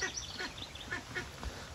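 Silver wood ducks quack in a rapid series of short, fairly close calls at an outdoor waterfowl aviary, with no talking over them.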